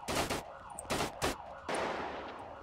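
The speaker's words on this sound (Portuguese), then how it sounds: "É muito tiro, pô!" Several bursts of rapid gunfire crackle in quick succession, sharp and fairly faint, from weapons firing in GTA roleplay.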